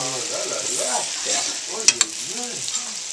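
Foie gras sears in a pan after being flambéed with Jack Daniel's, a loud, close sizzle and hiss with two sharp clinks, while a voice talks over it.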